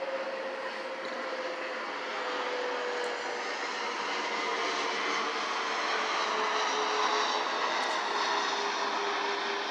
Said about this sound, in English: Is that the engine reversing? Trying to slow down to get to the airport down there